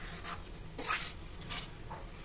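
Harira being stirred in a pan over a high gas flame, with repeated scraping strokes and soft sizzling, fairly close and steady with no talking.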